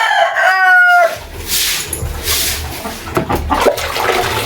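A rooster crows loudly once, close by, followed by scuffling noise and faint background sounds.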